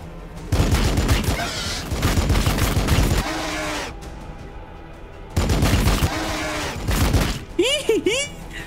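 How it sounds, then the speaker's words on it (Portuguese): Bursts of rapid machine-gun fire in Warhammer 40,000: Battlesector, loud sustained volleys separated by a short lull, with a voice talking and a few chirpy effects near the end. "essa metralhadora é muito boa"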